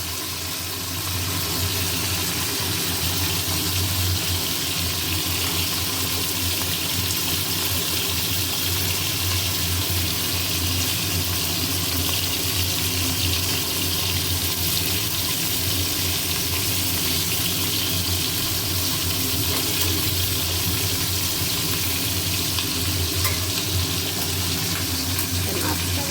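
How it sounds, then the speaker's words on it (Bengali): Hilsa fish frying lightly in hot oil in a pan, a dense, steady sizzle and crackle that runs unbroken and fairly loud throughout. "ইলিশ মাছটা বেশি ভালো হালকা করে ভাজলেই হয়"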